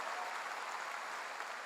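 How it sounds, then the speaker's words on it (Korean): A church congregation claps during a revival service, producing an even, continuous wash of applause at moderate distance with no voices over it. "박수로 하나님께 영광 돌려가지고"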